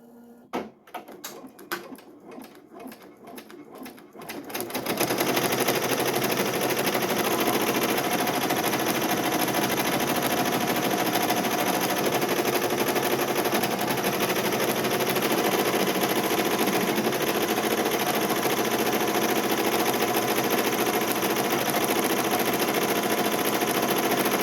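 Embroidery machine stitching a zigzag tack-down on a fabric appliqué design, starting up after a few seconds of quiet handling noises, then running steadily and loudly with a continuous rapid mechanical whir and needle clatter.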